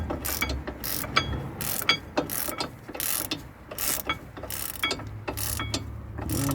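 A ratchet wrench turns the carrier bolts on a car's front brake during a brake overhaul, giving repeated bursts of sharp clicking at close range with short pauses between strokes and no talk.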